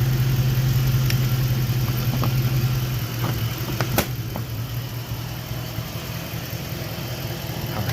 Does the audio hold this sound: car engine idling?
yes